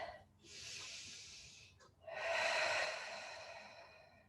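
Deep, slow breaths taken during a standing stretch with both arms reaching overhead, two long airy exhalations close to the microphone, the second louder and longer, separated by a brief pause.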